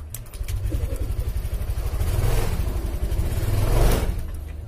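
A fuel-injected automatic scooter engine with a broken CVT pulley that has gone unserviced revs up loudly close by, throbbing with a rough pulse, then fades and dies out; the level climbs again near the end.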